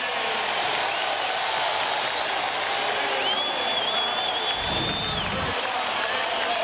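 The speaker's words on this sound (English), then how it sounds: "You notice how the crowd got involved." A basketball arena crowd roars after a hustle play, a continuous loud wash of cheering and whistles that swells briefly near the end.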